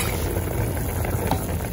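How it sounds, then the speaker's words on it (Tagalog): Kardis and beef boil in a pot, giving a dense, continuous bubbling and sizzling close up with no breaks. "Sana po, makulo-kulo na siya."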